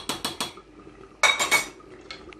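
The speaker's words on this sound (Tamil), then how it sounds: "நான் ஒரு சாதாரண மூடி போட்டு மூடி வச்சுட்டேன்" A metal lid clatters onto a cooking pot: a quick run of three sharp metallic clinks, a pause, then a louder rattling clank as it settles, close up with no voices.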